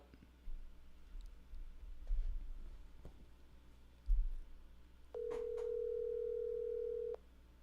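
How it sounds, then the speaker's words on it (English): Faint clicks and rustles, then a steady telephone tone sounds for about two seconds before cutting off; quiet throughout, no talking. "I'm going to call her and see if she answers"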